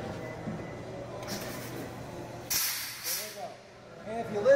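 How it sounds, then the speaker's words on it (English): A truck's air brakes release air from the back axles, giving short sharp hisses of escaping air amid faint background rumble, fairly quiet and close by. "if you listen, they only release the air from the back axles"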